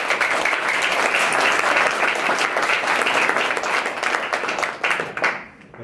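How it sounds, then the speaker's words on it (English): An audience at a talk on video game narrative design claps enthusiastically, dense steady applause that holds for several seconds before tapering off. "Round of applause."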